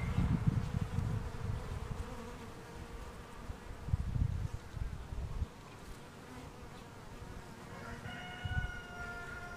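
Honeybees buzz steadily around a hive, a dense droning swarm close by that swells in low rumbling bursts, with a few thin higher whines near the end.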